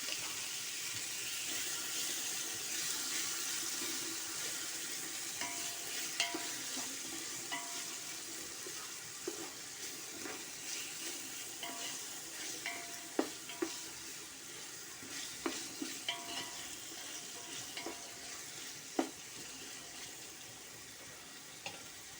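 Tomatoes frying in a pan with already fried onions and being stirred, giving a steady soft sizzle with intermittent scraping clicks of a utensil, no talking.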